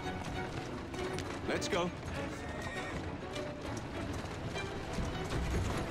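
A horse in Assassin's Creed Syndicate clip-clops along steadily at close range, with a whinny partway through and someone talking over the hooves.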